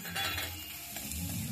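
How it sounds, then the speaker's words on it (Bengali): Masala and chopped tomato frying in a pan over low heat with powdered spices, a soft steady sizzle with brief stirring scrapes, close and alone without talk. "আরও একটু আমি ভালো করে ভেজে নিচ্ছি"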